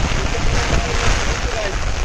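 Heavy rain near a canal where a Pulsar 220 motorcycle is being handled, a loud, dense, continuous hiss close by with a low rumbling undertone.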